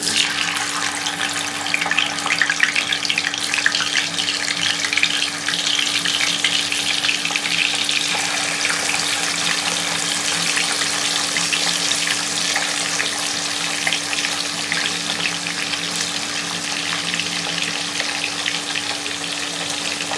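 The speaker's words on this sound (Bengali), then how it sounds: "মাছটা আর তেল খুব ভালোভাবে গরম হয়ে গেছে বাড়িতে মাছগুলো দিয়ে" Katla fish pieces fry in hot oil, a loud, steady sizzle and crackle running unbroken for the whole stretch with no voices over it.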